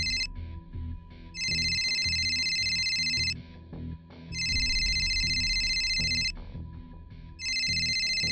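A telephone rings in a tense detective drama scene, an electronic two-tone trill sounding in three long bursts with short gaps between them, loud and close over faint background noise.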